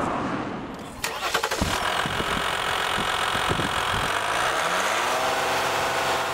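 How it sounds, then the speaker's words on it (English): The 3-liter EcoDiesel engine of a 2014 Jeep Grand Cherokee cranks and catches with a loud clatter, then settles into a steady, rough idle that continues close by. "hear that? Diesel, 3-liter diesel, eco diesel."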